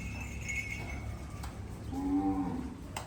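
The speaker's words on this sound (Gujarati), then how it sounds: "ગીરની બધી ગાયો મસ્ત મસ્ત છે" A Gir cow gives a low, drawn-out moo partway through. The call is quiet against a faint background of clinking and farmyard noise.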